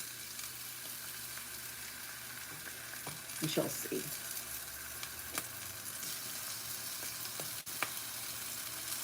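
Steady crackling sizzle of pork chops frying in a pan, close up, with a brief quiet spoken remark partway through.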